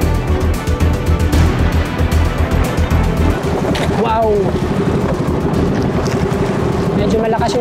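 A boat crosses rough waves on Panggil Bay, its motor drone and heavy water rush loud and continuous alongside wind buffeting, while people talk over the noise.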